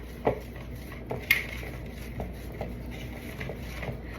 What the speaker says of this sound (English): now we're gonna mix all our seasonings up